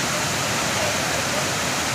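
Fast-flowing water pours at a waterfall near Sholavandan, Madurai, a dense, steady roar that fills the whole two seconds, loud and close with no other sounds standing out.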